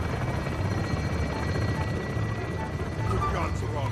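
A helicopter piloted by Price in the Call of Duty Modern Warfare II campaign, a steady dense rotor drone that fills the clip at constant loudness, with speech mixed in.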